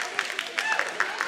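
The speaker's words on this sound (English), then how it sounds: "this is the crowd for the Sheep to Shawl" Festival crowd murmurs and chatters around the Sheep to Shawl contest at the Maryland Sheep and Wool Festival, with scattered claps and overlapping voices nearby.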